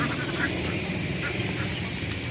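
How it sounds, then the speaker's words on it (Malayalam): Mixed-colour Kuttanad ducks on a farm and nursery in Ponnani, quacking continuously as a dense nearby flock, a constant chorus with no pauses. "ഇത്തരത്തിലുള്ള താറാവുകളെ ആവശ്യമുള്ളവർക്ക് നമ്മളെ കോണ്ടാക്റ്റ് ചെയ്യാം"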